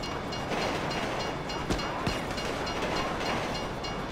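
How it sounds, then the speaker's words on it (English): A train rolling past in the video game GTA V, a dense, steady rumble and rattle of wheels and cars filling the whole stretch, loud and continuous with a couple of brief clanks. "If you were local, you'd know the train comes by right now!"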